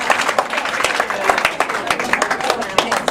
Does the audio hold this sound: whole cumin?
no